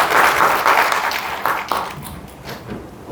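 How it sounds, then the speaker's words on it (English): Audience applause for a panel speaker at a digital and innovation week event in Ghana, a short burst of steady clapping that thins out over about three seconds. "Please a round of applause for him."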